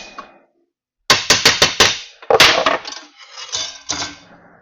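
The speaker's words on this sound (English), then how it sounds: "use a hammer just to tap it down." A hammer taps a metal bracket with several quick, sharp taps in a row, followed by a few more uneven knocks and clanks, close and loud.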